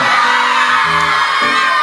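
Children shout and whoop outdoors at a resort in Truskavets, their raised voices layered and overlapping in shifting bursts, moderately close and continuous.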